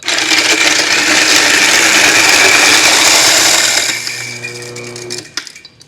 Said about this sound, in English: let's get some ice and do some crushing / shaving. In goes our ice, turn the machine on